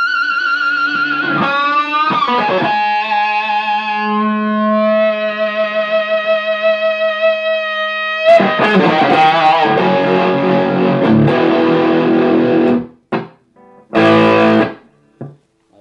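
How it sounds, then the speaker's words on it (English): Electric guitar through a Boss overdrive pedal with the drive turned fully up, played into an Orange Micro Terror head: sustained distorted chords and notes ringing out, then choppier riffing with abrupt stops and short silent gaps near the end. "This is the drive all the way up for on the Boss."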